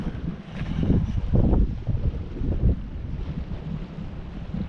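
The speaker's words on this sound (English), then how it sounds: "It's windy around the point here." Steady outdoor wind buffets the microphone in low, gusty rumbles, swelling and easing over a few seconds with no one speaking.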